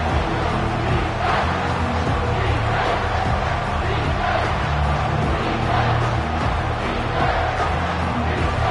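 A stadium crowd in the NCAA '25 college football game roars continuously as the defense lines up, a dense, loud, sustained wash of cheering and yelling with no break.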